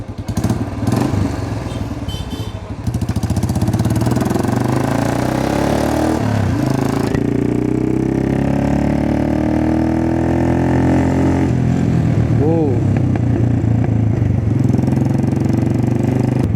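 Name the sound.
Royal Enfield Classic 350 engine with Moto Torque replica exhaust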